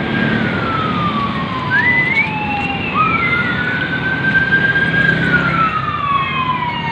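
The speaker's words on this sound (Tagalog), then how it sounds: "may wangwang pasyente" An ambulance siren on a highway wails loudly and close, its pitch sweeping up and down in long cycles over steady traffic rumble, with no talk.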